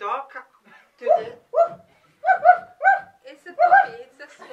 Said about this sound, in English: It's a puppy. It's a small It's a small dog.